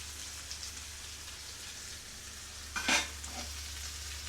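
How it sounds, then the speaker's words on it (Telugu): Curry cooking for benne dosa sizzles steadily in a pan, a constant hissing fry with one brief louder burst of spattering near the end; no one speaks. "భలే ఫ్రై అవుతున్నాయి చూడు, ఎంత బాగున్నాయో అసలు"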